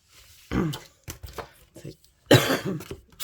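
A person coughs a few times, with short harsh bursts spread across the moment and a louder cough near the end, close and indoors during a crafting session.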